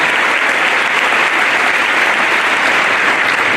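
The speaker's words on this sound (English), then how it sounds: "let's give him a big round of applause" An audience at a special event at Olathe North gives a sustained, loud round of applause, dense clapping from a large crowd that holds steady throughout.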